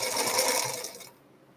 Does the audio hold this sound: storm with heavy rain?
no